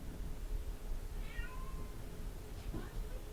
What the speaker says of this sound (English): I heard my cat meowing outside my door.